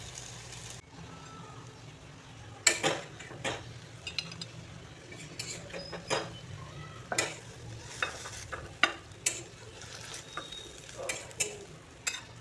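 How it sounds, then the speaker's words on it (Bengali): Mustard paste wrapped in pumpkin leaves frying in a pan, a low steady sizzle under repeated sharp scraping and clinking stirs, close with no talk. "এখন আমি এগুলোকে কুমড়ো পাতায় মুড়ে ভাজবো।"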